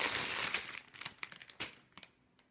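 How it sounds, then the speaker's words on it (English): Plastic packaging is crinkled close up, a dense burst of crackling that breaks into scattered sharp rustles and fades to a few quiet crinkles. "Sorry for the crinkling again."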